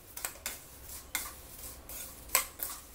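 A spoon scrapes and clinks through a dry wheat-flake chivda mix with fried sugar, salt and red chilli powder, giving scattered light rattling strokes and a few sharper taps, close and fairly quiet.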